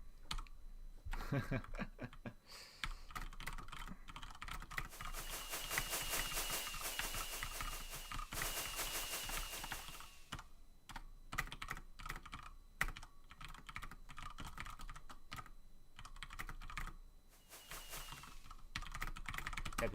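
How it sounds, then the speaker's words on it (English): Rapid clicking of keys on a mechanical keyboard, close and steady throughout, with dense bursts of fast typing. "Excuse my typing in your ears. My code, nice mechanical keyboard is great."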